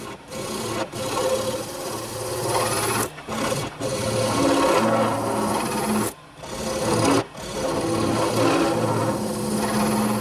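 A wooden handle on a spiral rolling pin is tapered down to 1.5 inches, producing a loud, steady abrasive rasping that runs continuously with a few short pauses.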